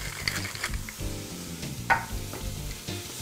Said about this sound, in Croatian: i na srednje jakoj vatri pržimo dok ne omekše